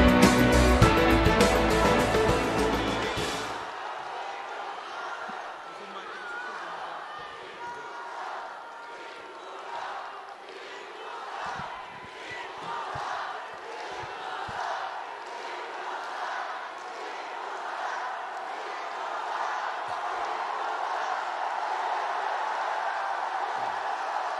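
A large crowd at a Saenuri Party leadership candidates' joint rally in the Yeongnam region greets a candidate. A loud burst is followed by sustained mid-level applause and cheering that fills the hall.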